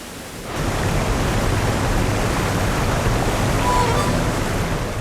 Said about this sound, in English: It's the wettest time of the year, but all this rain is good news for the bears.